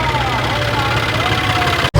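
Low, steady throb of a tractor engine running nearby at a village trolley-pulling competition, with a faint whine over it, cutting off abruptly at the end.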